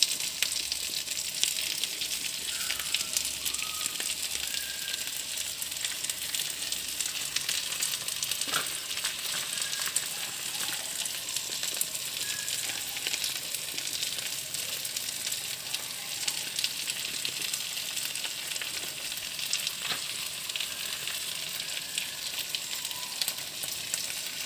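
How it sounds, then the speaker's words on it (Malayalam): Biryani paste fries in a pan and gets stirred, a continuous even sizzle with scattered faint clicks and scrapes, heard alone at moderate volume throughout. "ബിരിയാണി പേസ്റ്റൊക്കെ ഒന്ന് ചേർത്ത് ഒന്നിച്ചൊന്ന് യോജിപ്പിച്ച് ഇളക്കിയെടുക്കാനാണ് ഇതിനകത്ത്"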